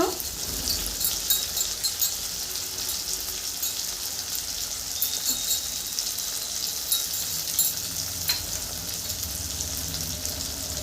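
Spice paste with salt frying in a pan for Bengali shukto: a steady, dense sizzle with faint stirring scrapes, close and continuous throughout, no voices.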